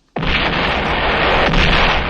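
A large explosion in a film scene erupts suddenly and then holds as a loud, sustained roaring rumble for about two seconds, with no voices over it.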